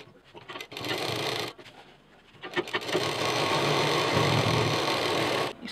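A sewing machine stitches fabric pleats into a small DIY backpack with a bottle case, running in two sustained bursts of steady whirring with a short pause between, fairly close and heard alone.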